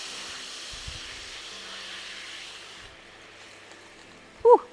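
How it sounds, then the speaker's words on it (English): Wine hisses and sizzles as it deglazes a hot pan of turkey drippings, a steady broad fizz that fades after a few seconds, followed by a brief close clatter near the end. "Then we need to deglaze this pan with some wine."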